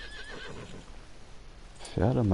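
A horse in the video game Red Dead Redemption 2 gives a loud, close whinny near the end, preceded by quieter background game sounds and faint talk.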